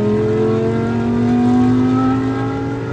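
A Lamborghini Huracan Super Trofeo Evo 2 race car accelerates away, its engine note rising steadily and loud, sustained and close with no talk over it.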